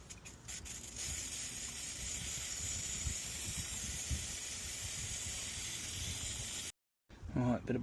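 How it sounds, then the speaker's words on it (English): A long, steady hiss of brake cleaner sprayed from an aerosol can onto a Kawasaki ZR7 motorcycle's brake parts, running unbroken for several seconds before cutting off abruptly, followed by a brief clatter. "Right, bit of brake cleaner."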